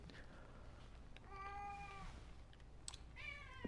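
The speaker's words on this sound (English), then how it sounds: "Housemate's cat, but it's a good cat." A cat meows a few times indoors, short drawn-out cries with quiet gaps between them over a low steady hum.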